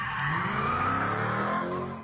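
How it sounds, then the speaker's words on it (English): Cars doing donuts on a city street, tires skidding and squealing in one sustained loud screech with engine roar that fades at the end. "Put an end to the fancy cars doing donuts overnight in the streets."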